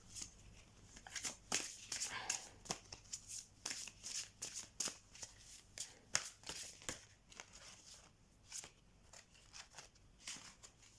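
Oracle rune tiles are mixed by hand, producing a quiet, irregular series of clicking and rustling bursts over about eleven seconds, with no one talking.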